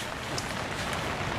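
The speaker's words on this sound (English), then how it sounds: "It's raining again." Steady rain falls outdoors in Peru, a soft, even hiss of drops with no talk.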